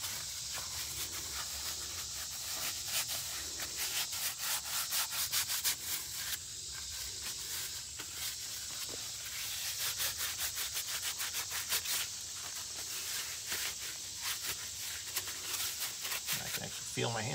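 Gojo wipes rub and scrub over greasy hands and arms in steady rough swipes, close and fairly loud, with speech in between.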